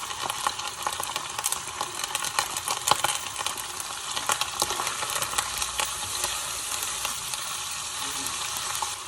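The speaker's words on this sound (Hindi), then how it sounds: "ये हमारा मसाला भून रहा है।" Chicken nihari masala fries in a pan with a steady, dense sizzle that crackles on without pause, close and fairly loud, with no talking.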